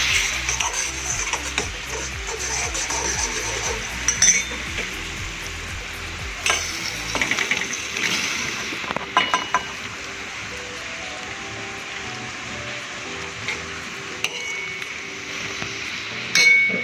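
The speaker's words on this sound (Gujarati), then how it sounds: "હવે આને આપણે આની અંદર" Okra tossed into a yogurt masala in a hot pan, crackling and sizzling steadily with occasional clinks of a spoon against the pan; a low hum under the first half drops away partway through.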